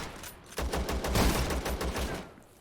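Gunfire at a bandit in ZERO SIEVERT, a burst of several rapid shots that thump through the middle of the clip, fairly loud and close, then trailing off, with no voices.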